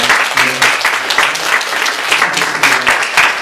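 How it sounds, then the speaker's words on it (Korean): A church congregation at a Sunday communion service applauds in a dense, loud, steady round of clapping that fills the room, with faint voices mixed in. "오늘 박수를 쳐드리겠습니다"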